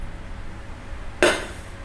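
A metal pot set down on an induction cooktop makes a single sharp clank, loud and close, after a stretch of quiet room noise.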